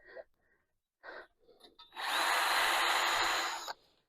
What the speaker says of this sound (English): I don't know what's going on with my drill